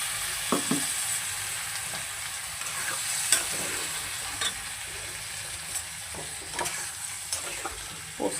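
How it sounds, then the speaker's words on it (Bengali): Poppy seeds frying and being stirred in a pan, a steady close sizzle broken by scattered scraping stirs throughout. "দেখো খুব ভালো করে পোস্তটাকে মিশিয়ে নেব।"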